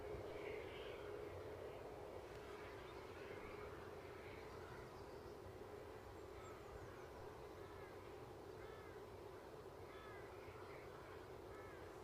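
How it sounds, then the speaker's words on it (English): An EasyJet airliner at Edinburgh rumbles as a low, steady engine drone in the background, while crows caw repeatedly and nearby birds chatter over it; no voices. "EasyJet in the background."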